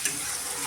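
Soybean mixture frying in a pan, a brief close burst of bright sizzling and crackling with a soft stirring scrape at the start, no voices.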